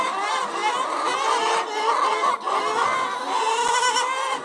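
A flock of free-range laying hens of mixed ages, kept together, clucks and murmurs continuously, loud and close with overlapping calls throughout.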